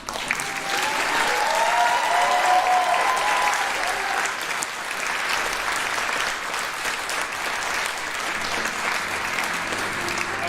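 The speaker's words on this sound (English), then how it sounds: "You can clap." Audience applause fills a graduation ceremony, steady and sustained clapping from a large crowd that stays loud throughout, with a few faint voices mixed in.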